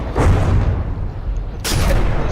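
A shell explodes against a warship in the naval combat game From The Depths, two heavy booming blasts a second or so apart, each with a rumbling tail, loud and alone without any talking.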